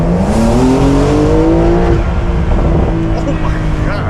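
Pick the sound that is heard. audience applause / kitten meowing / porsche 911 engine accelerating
porsche 911 engine accelerating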